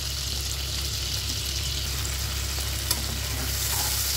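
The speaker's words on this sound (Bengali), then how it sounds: "এবার এগুলোকে আমি সুন্দর করে ভেজে নেব" Chopped tomato, green chillies, spices and salt fry in oil for a fish curry, a steady, even sizzle with no one talking.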